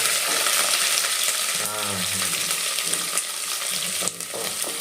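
Curry leaves hit hot oil in a pan while cooking a village-style tomato bath, giving a loud continuous sizzle and crackle with a sharper burst midway and stirring scrapes.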